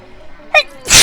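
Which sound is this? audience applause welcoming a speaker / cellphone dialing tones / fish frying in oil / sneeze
sneeze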